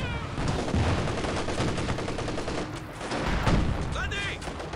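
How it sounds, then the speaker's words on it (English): A ZiS gun artillery barrage in the Company of Heroes strategy game, rapid overlapping booms and gunfire crackling densely throughout, with a commentator's voice mixed in. "Barraging by the Zizz gun there."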